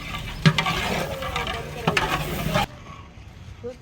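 Tomatoes tossed into a big pot of chicken biryani for a 20 kg batch set off a loud, steady sizzle with scraping stirs, which cuts off abruptly and leaves quiet background noise.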